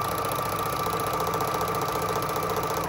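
A sewing machine stitches the frayed edge of a silk worship flag with a continuous, even mechanical whir and fast rhythmic chatter, close and steady throughout.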